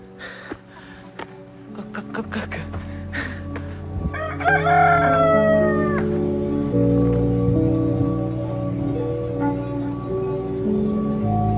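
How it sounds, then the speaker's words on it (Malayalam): A rooster crows loudly over a steady hum of outdoor noise and music-like tones in a hillside cave village in Mustang, Nepal, with a few scattered clucks and knocks early on from chickens pecking about. "ഇവിടുത്തെ കുറച്ച് കോഴികളൊക്കെ എന്തൊക്കെയോ കൊത്തി തിന്ന് നടക്കുന്നുണ്ട്"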